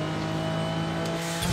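Porsche 935 race car in a racing video game, its brutal twin-turbo GT2 RS engine droning steadily with a whining differential, loud and close throughout, with a brief swell near the end.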